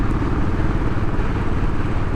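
Steady, loud engine drone of a Royal Enfield Classic 500 cruising in top gear on the road, a continuous low thumping rumble with wind noise, heard close and alone.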